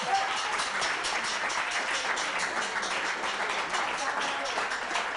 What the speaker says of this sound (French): Applaudissez, continuez pas à applaudir, applaudissez seulement.